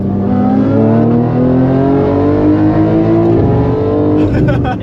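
A 2025 BMW M3 G80 Competition accelerates hard, its engine pitch climbing in loud, close rising harmonics through a gear change, with voices heard under the roar.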